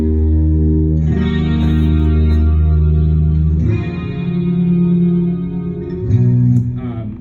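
Clean electric guitar being tracked, ringing sustained chords with a shimmering chorus-like effect that shift to new chords about halfway through and again near the end, played alone and close.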